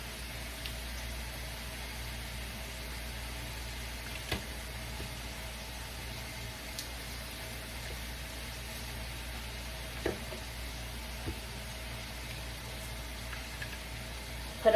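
A porterhouse steak sears in a pan with a steady, soft sizzling hiss that runs unbroken throughout, broken only by a few faint clicks.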